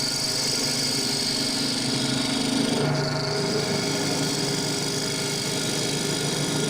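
A wood lathe spins steadily while a turning tool cuts wood, giving a loud, continuous motor hum with a rough scraping texture and no talk.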